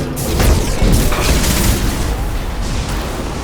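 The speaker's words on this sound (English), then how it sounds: "Watch out, flashbangs!" Flashbang blasts go off amid dense, continuous combat noise in Mass Effect 2, with booms and gunfire layered loudly throughout.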